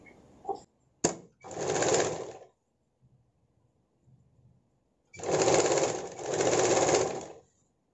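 A sewing machine stitches a sleeveless princess-cut blouse in two clear bursts of running, one short and one longer, with a sharp click before the first burst and quiet handling noises between them; no one speaks.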